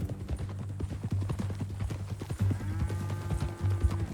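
Horse hooves clip-clop at a steady walking rhythm in a Red Dead Redemption scene, close and fairly loud, with a brief low engine-like hum and a few louder hoof strikes toward the end.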